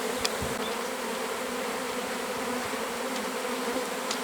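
A swarm of honeybees clustering around their queen on frames in a bucket buzzes in a dense, continuous drone, close and steady, with a few individual bees flitting past.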